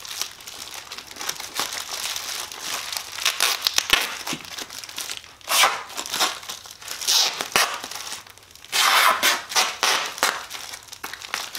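Tape being wrapped around a plastic bag fitted over a foot like a boot, heard as bursts of crinkling and tearing plastic close up, with no talking.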